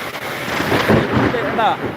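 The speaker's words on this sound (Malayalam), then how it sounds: "ഇടി" A loud, rolling rumble of thunder swells and fades over rain, with faint voices in the background.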